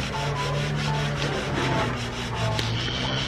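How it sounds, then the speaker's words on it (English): Hand sanding of wood on the exterior of a house under construction in the Philippines, a steady, close abrasive rubbing with rhythmic back-and-forth strokes and no talk. "hand sanding the entire outside of the house"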